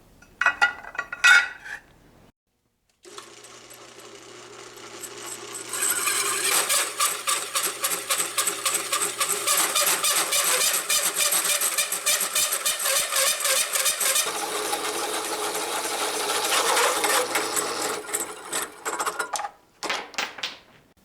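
A drill press cuts through plate with a hole saw held in a bushing guide. It sounds like a rapid, sustained rattling chatter that runs loud for about fifteen seconds over a low motor hum, then stops.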